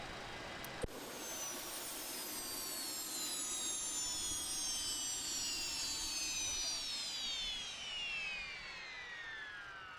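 In the FlyJSim 737-200 flight simulator, the APU winds down after a click, a high whining turbine tone slowly falling in pitch over a steady airy hum, with a voice faintly talking.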